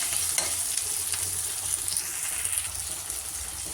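Onions and a single tomato sauté in a pan for a village-style mutton fry, giving a continuous close sizzle with soft stirring scrapes and no talking.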